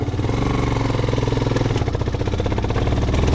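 A motorcycle engine labours loudly and close on a steep village road, a throbbing pulsing drone with a slight rise in effort, heard alone.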